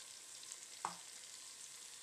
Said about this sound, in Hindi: अदरक लहसुन भी अच्छे तरीके से भुना जा चुका है और टमाटर भी काफ़ी अच्छा मिक्स हो गया है